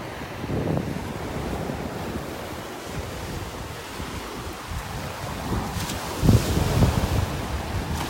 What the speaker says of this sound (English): I can hear that wind. coming right up from the south, it feels like.